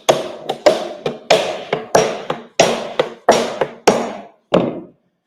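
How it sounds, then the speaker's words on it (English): A hammer taps a wooden whiskey cask lid in about fourteen sharp, ringing knocks at a loose, uneven rhythm, close and clear, with brief gaps between strikes. "I'm just lifting it up and leaving the hammer do the work."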